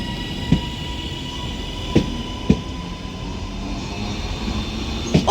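A Northern service train departs Manchester Oxford Road station bound for Blackpool North, its low rumble steady under platform ambience with a few sharp clanks and a squeal-like tone near the end.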